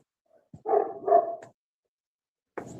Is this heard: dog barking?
yes